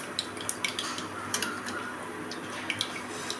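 Mustard seeds hit hot oil in a pressure cooker, throwing off scattered tiny crackling pops over a low, steady sizzle.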